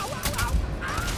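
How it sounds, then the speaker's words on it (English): Sci-fi gunfire from a firefight in Starfield, a dense burst of several shots close together over a low rumble, loud and continuous through a short battle moment. "Stop shooting."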